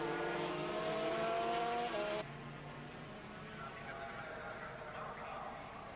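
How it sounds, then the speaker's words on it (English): Yamaha TZR 250 and Suzuki RGV 250 two-stroke racing motorcycles at Sentul circuit, Indonesia, a high engine whine that shifts pitch then fades into distant crowd-like noise under race commentary. "As Kit dives down the inside and takes the lead from Meng Heng"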